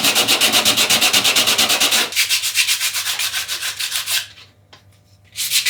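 Rapid back-and-forth sanding of fiberglass around a surfboard fin, loud and close, with rhythmic rasping strokes that slow and briefly pause before resuming.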